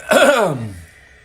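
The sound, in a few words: throat clearing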